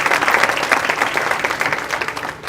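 A large conference audience of several hundred claps in steady, dense applause that fills the whole stretch, close and loud, with no talk over it.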